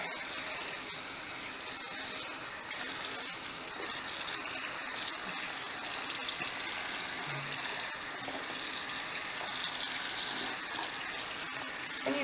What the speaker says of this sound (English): you just want to rinse it until you have no more soap